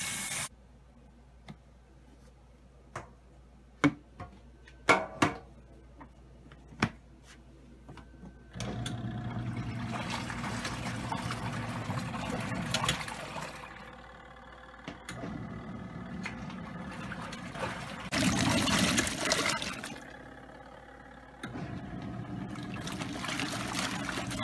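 Water runs from a portable shower head into a cheap compact portable washer, refilling the tub for its rinse cycle; a steady trickling, splashing stream near the mic, starting after a few scattered clicks and continuing with shifting intensity.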